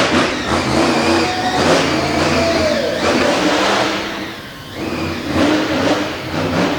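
Plain Crazy, a monster truck from Watkins, New York, revving hard through a freestyle run, its engine loud and close with rising and falling throttle surges and no talk.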